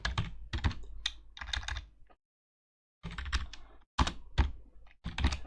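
Typing on a computer keyboard: close, crisp bursts of key clicks with a thunk from the space bar, stopping for a short silent pause before resuming, with no voices.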